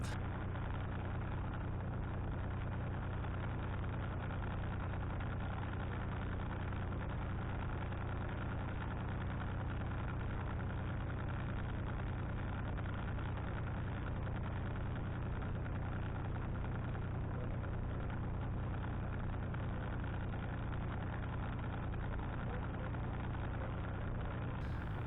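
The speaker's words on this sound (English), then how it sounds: "Taxiing is always conducted very slowly, and we were very careful not to go too fast or hit anything." A small plane's engine idles steadily as the aircraft taxis slowly on a taxiway, a continuous low droning hum that stays even and moderately quiet throughout, with no talking.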